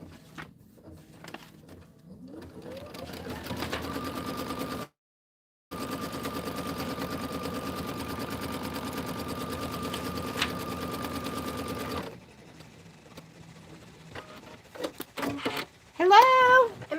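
Sewing machine stitching a quilting stitch on an autumn quilt border, whirring steadily with a brief pause, then halting; a person talks near the end.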